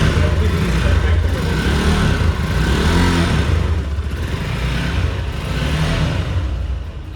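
Imported sports bike idling and revving through its exhaust, a loud, steady engine roar with swells of throttle that persists under someone talking close by.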